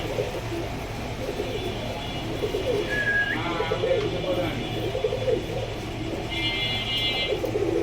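Pigeons at a rooftop pigeon seller's coo repeatedly under a busy, murmuring background, with several soft rolling calls and a couple of brief higher whistle-like tones, while voices are faintly present.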